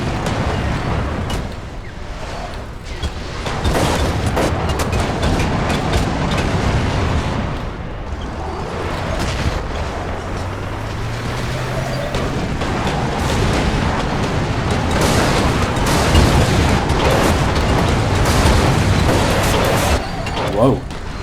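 A tank cannon blasts repeatedly in the Eternal Crusade video game, with loud booms and mechanical rumble continuing for the whole stretch amid dense battle noise, and voices talk over it now and then.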